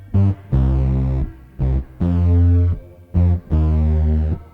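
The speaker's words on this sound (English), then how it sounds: "Altogether, the bass sounds like this." A thick, distorted bass guitar plays short repeated phrases with gaps between them, gritty and heavily processed with chorus-like swirl.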